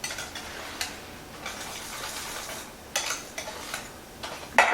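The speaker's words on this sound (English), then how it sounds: "We'll stir this in." Spoon stirring pecan pie filling in a bowl, soft scraping with a few sharper clinks against the side, close and fairly quiet with no talking.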